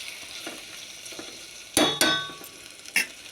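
Food frying in a pan before tomato is added, a soft sizzle under a few sharp metallic scrapes and clinks of a utensil against the pan, close by.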